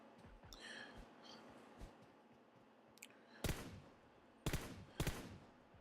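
Gunfire in the mobile shooter game PUBG Mobile: three sharp, loud shots or short bursts in the second half, preceded by quieter game sounds and faint clicks.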